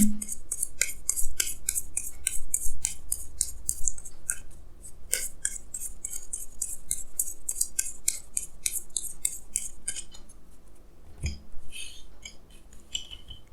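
Tarot cards are shuffled and drawn by hand, giving a steady run of crisp, rapid flicks and slides close up, with a few heavier taps and no talking.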